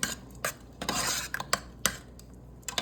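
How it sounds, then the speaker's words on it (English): A spoon scrapes and clanks against a pot while stirring a rice and vegetable filling for stuffed cabbage rolls, irregular metallic knocks and scraping strokes close up, with no voices. "I'm going to stir this up and I'm going to taste it"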